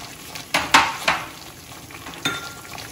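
A spoon stirs gravy with cardamom powder in a pan, giving a few sharp scraping clinks over a steady soft sizzle.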